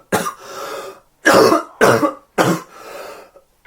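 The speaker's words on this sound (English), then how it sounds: "I've got a cough, and I think I'm going to use that violent cough to segue into the next episode" Four harsh, forceful coughing bursts from a person with a cough, close and loud, separated by short silences and trailing off with a faint throat sound at the end.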